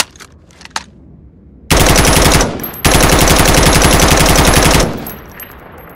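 Two long bursts of fully automatic M4A1 rifle fire in a video game, loud and close, the first about a second long and the second about two seconds, separated by a short gap.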